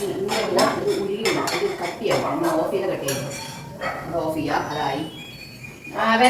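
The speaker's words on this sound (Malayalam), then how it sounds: "പ്ലേറ്റ് കഴുകി വെച്ചിട്ടുണ്ട്" Dinner plates and cutlery being washed and stacked away in a home kitchen, repeated clinks and clatters of dishes against each other near the listener, with someone talking over it and a dog barking briefly.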